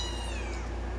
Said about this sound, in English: has very tiny meows. Very tiny.